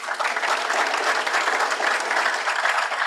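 Audience applause at a digital security conference for a bank security manager being introduced, a brief, even wash of clapping from a moderate crowd.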